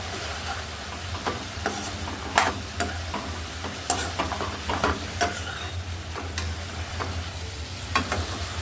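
Dried fish and cabbage fry in a pan with a steady sizzle, while a utensil stirs and scrapes through them in irregular clattering strokes, close up with no talking.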